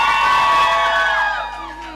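Audience in a conference room screaming and cheering together, a loud burst of shouts and whoops that holds and then tapers off.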